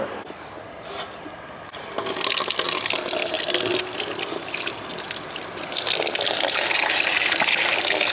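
Tap water gushes into a cat's water bowl at a kitchen sink, a steady loud rush that swells after a brief quieter start and continues without talk.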